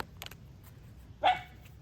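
A pet dog named Fredo gives a single sharp bark indoors. It comes close and clear after near silence with a few faint taps, and no one talks.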